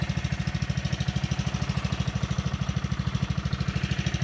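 A Honda small engine idles just after a first-pull start on a very cold morning, a close, steady low putter with even rapid firing pulses running throughout, a little uneven, with no talk over it.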